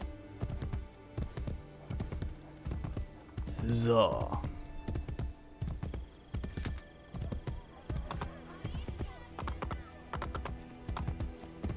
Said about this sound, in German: Pferd, komm her. Komm her, mein Schimmel.